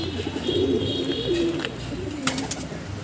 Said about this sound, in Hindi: अभी हमारा जंगली कबूतर बाहर आया है